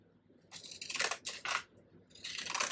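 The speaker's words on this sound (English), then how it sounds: "And what I'm going to do is again use my scissors." Scissors cut printed paper for a handmade vintage travel journal, making several close, crisp snipping and rustling bursts separated by brief pauses.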